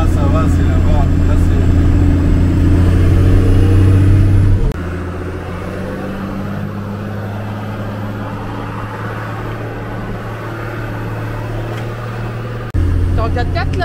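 A 4x4 vehicle's engine drones low and steady at close range while driving over soft ground, with a shift in pitch partway through; voices talk over it.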